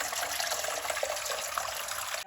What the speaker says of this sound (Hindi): यहाँ पे मैं गर्म पानी इस्तेमाल करूँगी।